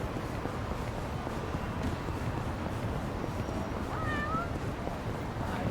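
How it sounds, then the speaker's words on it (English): A single short cat meow in a video game rises briefly over a steady, noisy background hum, heard once near the end. "I hear a kitty."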